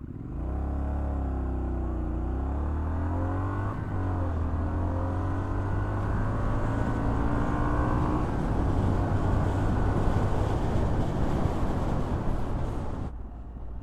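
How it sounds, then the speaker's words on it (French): A 2021 Triumph Street Scrambler motorcycle idles low, then revs hard through a 0-100 km/h launch, climbing through the gears with its pitch rising in stages before the roar cuts off sharply at the end. "Je vais vous faire un départ 0-100 km/h."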